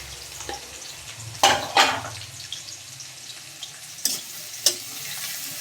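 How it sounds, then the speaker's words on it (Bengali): Green chili, onion and garlic fry in hot oil toward browning, giving a soft continuous sizzle broken by a few sharp spatula scrapes and louder crackling bursts. "লঙ্কা, পেঁয়াজ আর রসুন ভালো করে লাল করে নিচ্ছি।"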